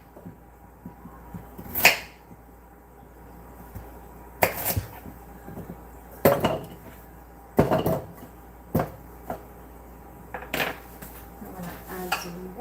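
Several sharp, crisp knife chops cut a carrot into pieces on a board at irregular intervals, close by, with quiet pauses between cuts.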